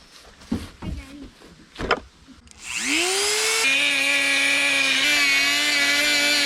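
A Dremel rotary tool with a grinding disc spins up and bites into a metal axle, a loud, steady high-pitched whine with a shifting pitch that runs on after a few brief knocks and rustles at the start.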